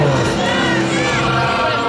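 A stadium crowd at an Olympic ceremony roars in a dense, continuous wash of cheering and applause, loud and steady throughout, with voices in the crowd but no clear single speaker.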